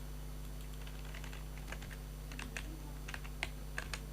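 Keys clatter on a computer keyboard while C code is typed, quiet scattered clicks in short bursts over a steady low electrical hum, with no talking.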